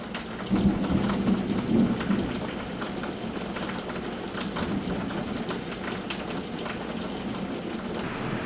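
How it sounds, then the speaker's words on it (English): Steady rain pours down while low thunder rumbles through the storm, a constant wash of hiss with deep rolling undertones. "when the big part of the storm's on us"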